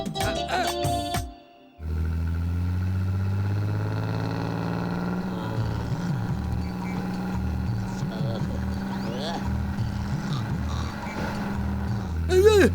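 A bus engine rumbles steadily with a low throbbing hum and rising gear whine, heard from inside, with faint voices now and then.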